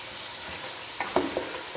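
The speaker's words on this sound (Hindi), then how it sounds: "मज़ीद हम इसकी भुनाई करेंगे अब इस टाइम पे थोड़ी सी देर के लिए।" Chicken frying with ginger garlic paste for korma gives a quiet sizzle with a few soft stirring scrapes and clinks near the end.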